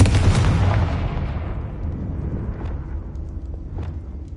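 A Confringo fire spell explodes in Hogwarts Legacy with a loud, deep boom at the start that rolls off into a long fading rumble, with no voices over it.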